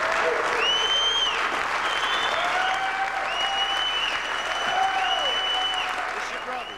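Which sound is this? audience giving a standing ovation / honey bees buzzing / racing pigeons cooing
audience giving a standing ovation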